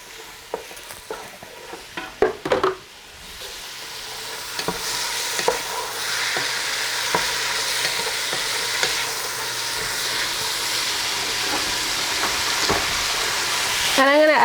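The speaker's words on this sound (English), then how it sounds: "I'm gonna add in my beans. Give them a quick saute." Beans sauté in hot oil with spices, sizzling steadily up close. A few clattering stirs come early and there are scattered scrapes throughout.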